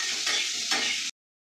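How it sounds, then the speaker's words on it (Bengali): Potatoes frying in a pan with salt, a steady close sizzle with a couple of stirring scrapes, running for about a second before stopping abruptly into silence. "লবণ দিয়ে এটাকে ভাজবো।"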